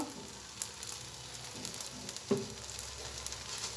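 Oil sizzles steadily under an aloo paratha frying on a hot pan, a close, soft, even hiss with a few faint taps and clicks and no talking.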